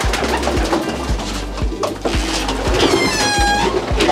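Pigeons in a loft coo in a steady, repeated low rhythm, close and loud, with rustling wings and a few higher chirps layered over the droning calls.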